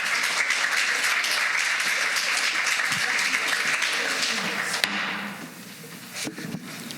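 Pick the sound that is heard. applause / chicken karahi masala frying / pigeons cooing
applause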